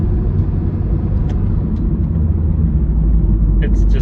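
A Subaru WRX drives with its engine droning low and loud inside the cabin, the pitch rising slightly through a few gear changes, with faint clicks and someone speaking over it.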